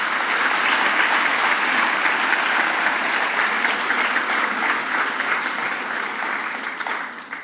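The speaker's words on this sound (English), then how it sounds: "Can we give him a round of applause?" A school audience at a St Andrew's School for Girls ceremony breaks into a round of applause, with dense, even clapping steady from start to finish before tapering off at the close.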